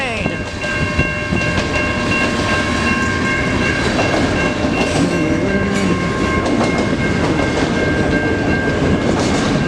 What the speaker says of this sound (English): this is a very long CN train